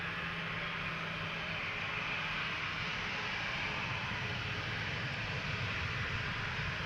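KLM Boeing 737 jet at Amsterdam Schiphol Airport, a steady broadband engine roar and hiss held at an even level throughout, moderately distant, with no voices.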